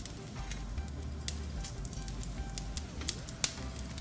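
Bay leaves and cumin seeds sizzling in very hot oil in a pan, a steady soft crackle and hiss with scattered sharper pops, close and fairly quiet, no talking.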